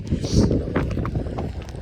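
Wind buffets the microphone in a rough, rumbling gust that swells and then eases slightly, loud and close.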